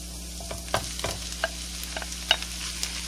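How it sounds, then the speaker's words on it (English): Ground meat for tacos dropped into a pan of softened onions, a close sizzle with a few sharp scraping and stirring clicks over steady frying hiss, brief and unvoiced. "I'm ready to add the meat."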